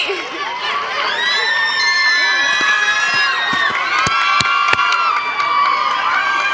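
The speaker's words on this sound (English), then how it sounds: "PA College of Pharmacy, cheer for your one of the winners. Louder." Pharmacy college students at a fitness campaign race cheer for the winners, a loud crowd of high shouts and whoops overlapping continuously, with a few sharp claps and taps cutting through.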